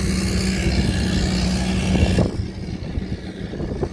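A Kubota three-cylinder diesel engine on a six-wheel, four-wheel-drive Mighty truck runs with a steady, droning rumble close by, its tone dropping slightly partway through.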